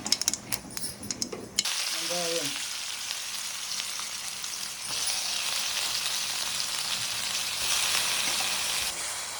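Mustard seeds, urad dal, crushed coriander and onion hitting hot oil for a raw mango chutney tempering, a few clattering drops and pops giving way to a loud, continuous frying sizzle.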